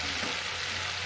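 Onion and tomato sauté in a hot pan for a dhaba-style chicken masala, a dense, continuous sizzling hiss heard up close with no talking.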